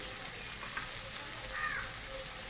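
Turmeric, Kashmiri chilli and pepper powders sauté in a pan for a Kerala-style egg dish, a soft continuous frying hiss with faint stirring scrapes, close and steady.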